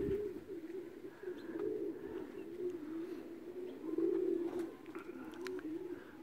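Racing pigeons coo softly in a continuous, fairly faint stream of low throaty calls, with a few brief higher chirps mixed in and no talking.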